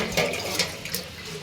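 Water poured into a pan of a thick vegetarian dish while cooking, a soft continuous splash and trickle with a couple of brief surges, close and fairly quiet, no talking.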